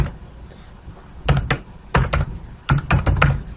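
Quick bursts of keystrokes on a computer keyboard, three short clusters of crisp clicking typing separated by brief pauses, close and clear with no voices.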